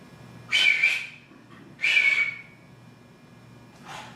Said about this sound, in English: all night I've been hearing that whistle.